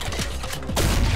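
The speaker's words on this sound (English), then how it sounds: "I always feel like the grenade launcher would be pretty good in this case" Grenade launcher shots in the Ion Fury shooter game fire in quick succession, punchy repeated thumps and blasts over a busy game soundscape.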